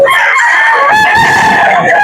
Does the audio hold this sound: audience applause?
no